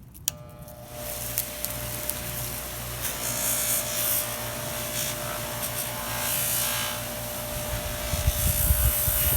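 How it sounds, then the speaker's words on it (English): A buffing wheel spins up and runs steadily with a close, even whir and rubbing hum while jeweler's rouge is applied, with occasional light scrapes and knocks. "We're going to turn this on. This will warm up and we'll apply the rouge to the wheel, and then we'll start buffing"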